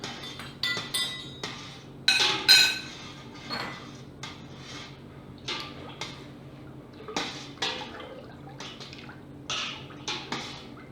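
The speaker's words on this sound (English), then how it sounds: "And we'll stir that in." A spoon stirs diluted calcium chloride into a pot of milk for homemade halloumi, making light, irregular clinks and taps against the pot at close range that repeat steadily with no talking.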